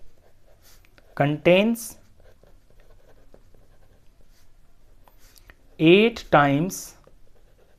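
Math is written on a board, with faint, quick tapping and scratching strokes that run on quietly in the gaps. A person speaks in two short bursts over the writing.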